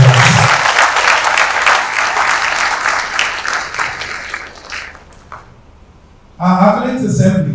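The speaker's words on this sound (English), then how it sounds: "Let's give a round of applause to them." Applause from a seated crowd of pupils at a school accolades assembly, a loud, dense burst of clapping that fades out before a voice begins speaking.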